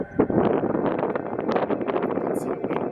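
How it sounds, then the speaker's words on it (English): Wind in a deserted desert village buried under sand dunes, a loud gusty rushing that buffets the microphone continuously with fluttering bursts. "You can see the wind outside."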